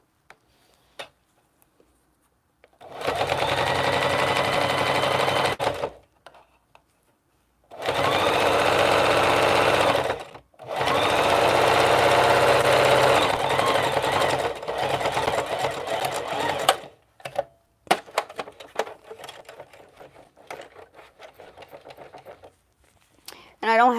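A sewing machine runs in three close, loud bursts of steady whirring, followed by scattered clicks and light handling noises as the stitching stops.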